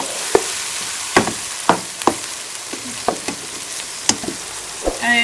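Matar pulao base with coriander powder frying in a pot, a soft background sizzle punctuated by sharp spoon clicks and knocks against the vessel as spices are stirred in.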